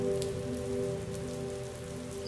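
Rain patters steadily at moderate volume over a sustained low humming drone, a few brighter drop-like taps standing out briefly.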